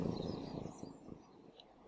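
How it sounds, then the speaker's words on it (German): Cat purring in the video game Brothers: A Tale of Two Sons, a low, rumbling, pulsing purr that starts strongest and fades over a couple of seconds, quiet and close, with no talk. "Oh, man hört sie richtig schnurren."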